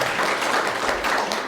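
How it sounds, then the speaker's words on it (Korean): Church congregation applauds to welcome two visiting deacons, a brief burst of dense, steady clapping filling the room. "우리 큰 박수로 환영하겠습니다."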